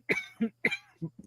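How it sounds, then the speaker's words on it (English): Two quick pairs of harsh coughs, close and fairly loud, with brief silences between them. "I get this cough."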